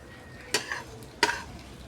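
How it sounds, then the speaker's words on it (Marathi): Sesame seeds and peanuts roasting in a pan, with two quick scraping stirs that each raise a brief rattling sizzle over a low background. "थोडेसे शेंगदाणे पण टाकू तिळीच्या तिखामध्ये. थोडं यांना भाजून घेऊ लाल होईपर्यंत."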